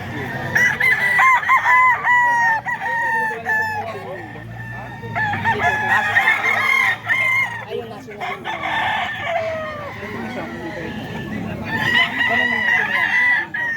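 A gamefowl rooster of sweater bloodline crows loudly and close by, repeating its ringing cock-a-doodle-doo call several times with short clucking sounds in between.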